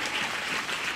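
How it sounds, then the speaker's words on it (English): A church congregation claps in a brief, dense burst of applause, steady and moderately loud with no voices over it. "Give Jesus a good round of applause."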